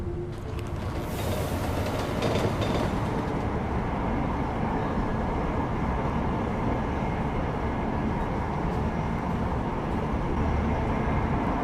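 Metro train ride in Deus Ex: Mankind Divided, a steady loud rumble of wheels and carriage with a brief high screech near the start, continuous throughout.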